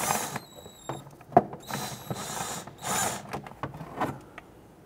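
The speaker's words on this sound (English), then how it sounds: "you're going to see two 10mm bolts here. I'm going to go ahead and loosen and remove those." A power tool or ratchet works two 10mm bolts loose on a car, in short whirring bursts separated by brief pauses and scattered metallic clicks and clanks, close by.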